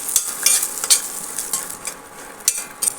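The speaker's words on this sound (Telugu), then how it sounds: "అన్నీ వేసి బాదం పప్పు, జీడిపప్పు, పిస్తా పప్పు ఇవి కూడా వేయించుకోవాలండి" Almonds, cashews and pistachios roasting together in a pan, a soft steady sizzle broken by light scraping stirs and a few sharper clinks of a spoon, close and fairly quiet.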